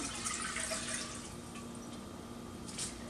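Elderberry juice is poured from a container back into a cooking pot, giving a soft steady trickle and splash at close range in a quiet kitchen.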